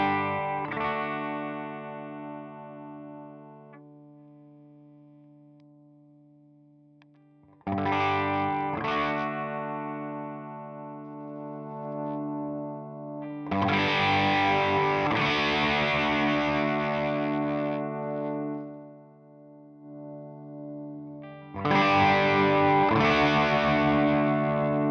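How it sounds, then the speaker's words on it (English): Electric guitar through an overdrive pedal based on the DoD 250 plays sustained, gritty chords and riffs in several loud phrases with brief pauses between them, close and with no talking. "the gust drive is based on a DoD 250, and it would be similar to something like the Klon Centaur."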